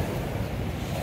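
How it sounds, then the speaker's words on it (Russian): Sea waves wash up a beach at a Russian resort hotel, a steady broadband rush of surf and wind with no pause, close and moderately loud. "смотри, волна даже дальше тапочек. Вот на вторую линию уже дошла."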